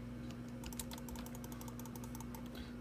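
Rapid, dense clicking of a computer mouse during fast gameplay, quick irregular taps over a steady electrical hum, close and fairly faint.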